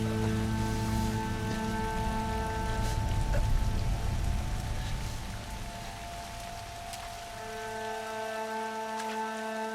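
Steady rain pattering down outdoors in the wild, a dense continuous hiss with constant tonal hum layered through, fairly loud and unbroken throughout with no voices.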